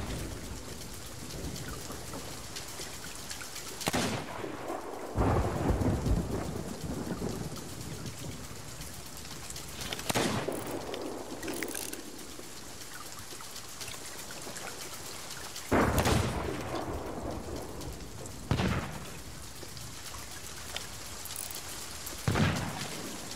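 Steady rain pours in a Sea of Thieves storm, broken by several loud thunder cracks and rumbles spaced a few seconds apart across the stretch.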